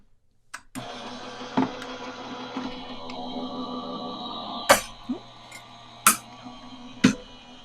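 A die-cutting machine hums steadily while cut paper for card making runs through it. A few sharp clicks and knocks sound close by, and a soft start at the beginning gives way to the continuous motor whir.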